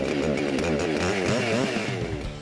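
Chainsaw cutting pine wood in a forest during pruning season, a loud continuous whine with wavering pitch as the engine bogs and rises under load, close and alone without voices.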